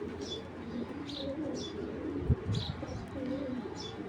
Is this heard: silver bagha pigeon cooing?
yes